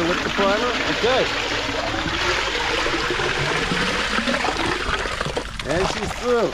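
Water mixed with primer rushes and gurgles through a clear concrete pump hose in a continuous wet flow, while people talk over it and whistles break in throughout.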